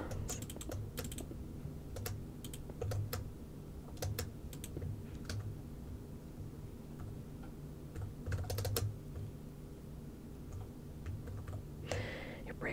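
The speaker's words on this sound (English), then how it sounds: "Hope you like keyboard and mouse sounds." Computer keys and mouse buttons tap in quick bursts and scattered single clicks during a block-building game, soft and near, layered over low game music and a brief breathy whisper at the close.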